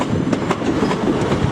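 A train runs along the line to Horsham, its wheels beating out a rolling clickety-clack over rail joints amid a steady low rumble, fairly close and loud, with no one speaking.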